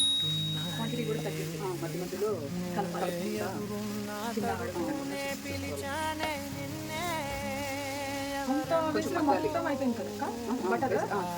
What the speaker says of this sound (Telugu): బటర్ లో క్యారెట్ ని బాగా వేయించాలి